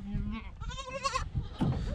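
A sheep gives a wavering, drawn-out bleat close by at a Bedouin camp in the Middle East, with people talking around it.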